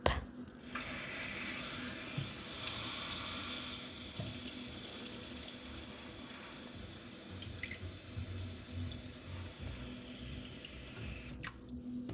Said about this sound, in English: I will place a greedy amount of water in my cup.